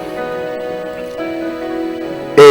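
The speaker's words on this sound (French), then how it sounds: "La pluie est tombée, les torrents sont venus" Steady rain falls as a sound effect beneath a French Bible reading about a house built on rock, a soft continuous patter layered with sustained tones, ending in a sudden louder burst.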